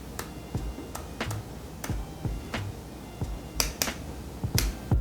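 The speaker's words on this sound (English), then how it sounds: "I just love the sound of the dials." Fujifilm X100VI camera dials turned by hand, giving a string of sharp, close, crisp clicks at an uneven rhythm, several in quick pairs, over quiet background.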